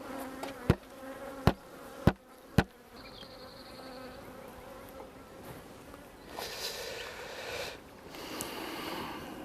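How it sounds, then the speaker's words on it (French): Honeybees buzz around an open beehive during a hive inspection, a soft continuous drone punctuated by several sharp clicks and knocks early on, then shuffling handling noises. "Donc c'est bien rempli d'abeilles."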